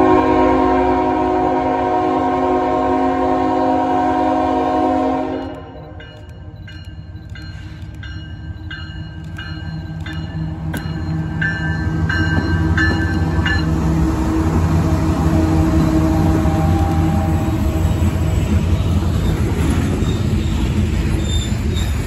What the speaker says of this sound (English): Southbound coal train, milepost 367 on the Fulton subdivision.